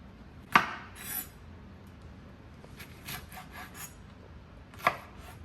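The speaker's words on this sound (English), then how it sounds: "I have some serrano peppers, garlic, and ginger. So I'm going to chop everything up" Knife chopping serrano peppers, garlic and ginger on a board: a few sharp isolated chops separated by quieter scraping and rubbing, close and fairly soft, with no talking.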